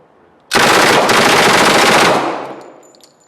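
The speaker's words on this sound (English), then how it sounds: "That was a 20 round box magazine that fired off in about a second and a half." A 92-year-old 1921 Thompson submachine gun empties a 20-round box magazine in one loud, rapid, continuous burst of about a second and a half at a 700 to 800 round cyclic rate, then the echo fades.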